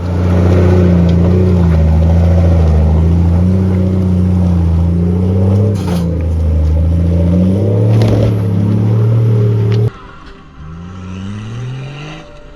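A 105 series four-wheel drive with an FTE engine conversion drives along, its engine droning loudly and steadily with smooth revs, then the note drops abruptly to a quieter cabin rumble near the end.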